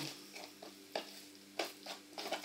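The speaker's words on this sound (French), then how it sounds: "Et pour être sûr qu'il y en a bien partout, on n'hésite pas à les mélanger." Fried potatoes being tossed with salt in a bowl, giving soft irregular scraping and rustling bursts with faint crackle, fairly quiet and close, with no talking.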